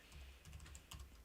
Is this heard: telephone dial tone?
no